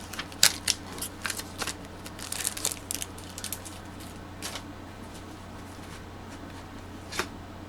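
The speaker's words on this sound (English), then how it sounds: "So I'm just peeling that off the package." Crinkly plastic packaging being peeled away from a stamp block, a string of short crackling bursts in the first few seconds, then quieter with one last crackle near the end, close by with no talking.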